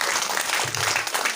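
A small crowd at a Christian family camp service gives a brief burst of scattered clapping, close and fairly loud, lasting just over a second with no speech.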